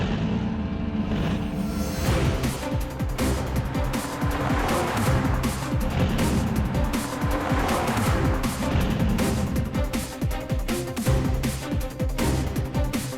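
A cartoon car races through a chase, its engine roaring loud and continuously with screeching tires and skidding throughout, without a break.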